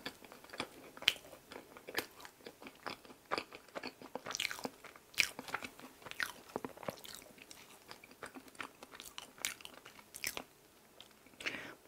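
Close, quiet eating of soft bread filled with chestnut pieces and sweet mung bean paste, with steady small bites, chewing and light crunches repeating irregularly throughout, no talking.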